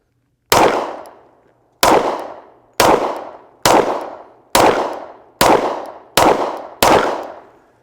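Eight loud, sharp gunshots from a Springfield Armory 1911 Elite Operator 10mm pistol, evenly spaced about a second apart, each with a ringing decay, close by with no talk.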